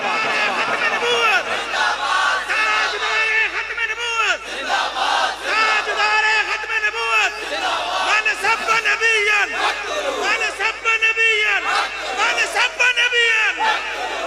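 A large crowd at a Tajdar-e-Khatm-e-Nabuwwat religious conference in Astana Rajar chants a religious slogan together in loud, repeated rhythmic bursts, voices swelling and falling across the whole stretch.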